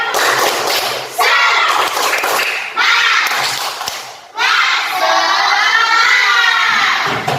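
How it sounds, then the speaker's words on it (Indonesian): Classroom children chant and shout together in a lively rhythmic 'tepuk semangat' spirit routine, their loud voices punctuated by thumps and claps in bursts across several seconds. "Ayo tepuk semangat, tepuk semangat."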